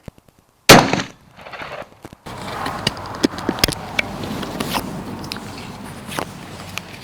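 Single loud, close blast from a 12 gauge shotgun loaded with black powder 00 buckshot, followed by a brief lull and then scattered knocks and rustling outdoors.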